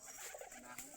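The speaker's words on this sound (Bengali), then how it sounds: "এই যে সবগুলো আমাদের গিরিবাজ বা দেশি কবুতর সব বসে রয়েছে।" Giribaz or native pigeons perched together in a loft coo faintly in a brief, low, murmuring call, heard at a distance under steady background noise.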